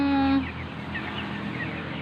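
A few short clucks from broiler chickens nearby, quiet against a steady background hum after a brief tonal sound at the start.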